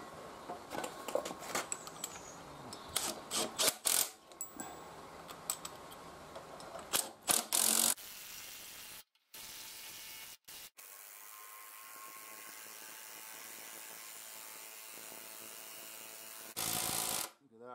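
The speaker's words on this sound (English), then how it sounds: "then wind them in with the impact driver" An impact driver winds coach screws into oak posts of a timber-framed garage, giving several close, loud rattling bursts in the first half, then a quieter steady mechanical hum broken by brief silences.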